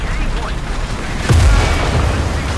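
IS-6 heavy tank cannon firing a single shot in War Thunder, one deep, close boom with a low rumbling tail over engine noise.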